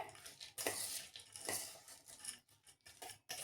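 Leftover chivda being mixed into spicy bhel in a large bowl, heard as soft, repeated scraping and clinking strokes at close range, fairly quiet.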